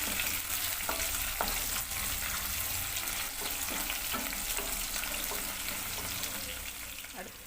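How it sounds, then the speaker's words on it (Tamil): Green chili, onion and coriander sauté in a pan for a dried anchovy curry, giving a steady close sizzle with occasional stirring clicks and scrapes. "பச்சை மிளகாய், வெங்காயம், கொத்தமல்லி நல்லா வதங்கட்டுங்க."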